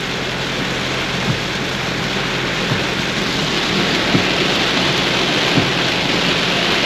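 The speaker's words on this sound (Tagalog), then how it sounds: "Pag ganito kalakas ang ulan, halos di makita ang daan." Heavy rain pounds steadily on a car driving at night, a dense continuous roar close around the vehicle with a few faint low thumps scattered through it, no voices.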